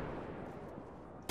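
Rapid gunfire from a powerful weapon in the GTA 5 video game during a police fight, a dense continuous crackle of shots, followed by a sudden louder burst at the end.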